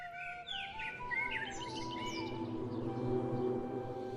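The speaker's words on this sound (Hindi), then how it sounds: "मिट्ठू ने चहकते हुए कहा, हाँ हाँ, चलो खजाने का रहस्य जानते हैं।" A cartoon parrot chirps and twitters in a quick series of bright, wavering tweets over a soft background wash, close and clear, with nobody speaking.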